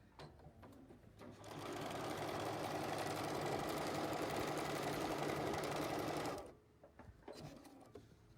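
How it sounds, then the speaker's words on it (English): A sewing machine stitches a paper-pieced hearts quilt block in one continuous whirring run of about five seconds. The motor starts and stops cleanly and sounds fairly quiet and close. "let me sew this real quick"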